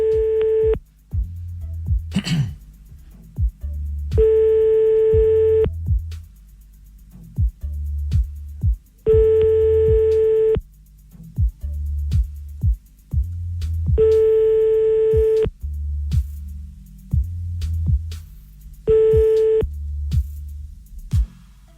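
Repeating telephone line signal heard during a call back to a radio listener on an NRJ show, with regular steady beeps alternating with low buzzing pulses over about twenty seconds, loud and clear.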